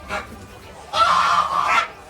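Poultry in a farm coop holding chicks and hens give short honking, clucking calls: a brief call, then a longer, louder burst after a pause, fairly close and without talk.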